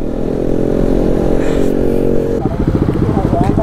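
A Bajaj NS200 motorcycle at a rally revs hard and close in a sustained, steady roar, then shifts to a choppier, pulsing engine note, while voices talk over it.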